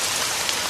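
Rain falls steadily in northern Ghana, a dense, even hiss of drops on surfaces that fills the whole moment with no voices.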